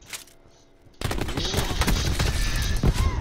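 Rapid grenade launches and blasts from the War Machine launcher in Call of Duty Black Ops 4 erupt suddenly after a quiet moment, then continue as a dense, loud barrage of explosions and gunfire.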